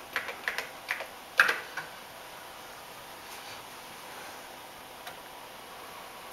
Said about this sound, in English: This keyboard actually has springs in it, and it's much harder to press than, you know, the keyboard on my current, you know,